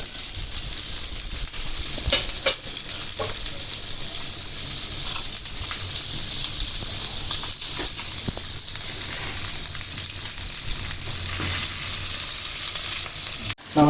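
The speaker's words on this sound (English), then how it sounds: "Now let's close it and griddle it 5 minutes on each side." Fish with herbs sizzles steadily on a hot griddle, a loud, continuous frying hiss with scattered pops and crackles, occasional scrapes and a sharp click near the end, no voices.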